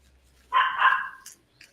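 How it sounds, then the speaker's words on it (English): A dog gives one loud, close bark, followed by a brief faint yip, with no talking. "Are you barking at me, really"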